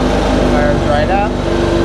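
Two-stroke Seadoo engine running right after starting, a loud steady close buzz with a few brief pitch shifts.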